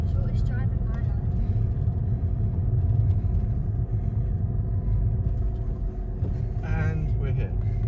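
A car drives at night with a steady low engine rumble and road noise filling the whole stretch, close and continuous, while people talk faintly over it.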